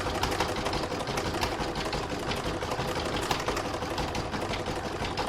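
Steady, fast mechanical stitching of a sewing machine quilting a single piece of fabric for a Christmas star block, running continuously and evenly at moderate volume.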